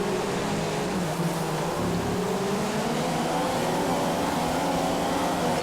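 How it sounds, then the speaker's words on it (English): Race car engine from the F1 2015 video game at Monza, Italian Grand Prix: a continuous loud high-revving whine with rising and falling pitch as the car accelerates and shifts, steady throughout. "This is my first time driving Monza as well in the game"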